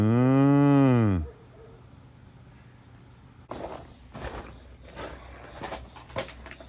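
A cow waiting to be fed lets out one loud, close, drawn-out moo lasting about a second, followed by quiet and then scattered rustling and clattering sounds nearby.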